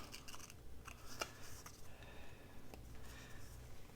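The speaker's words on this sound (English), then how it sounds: "I'm going to cut this off." Scissors snip through patterned scrapbook paper scraps, trimming away a piece during a page-wrap craft project; a few crisp close cuts stand out over a steady low hiss.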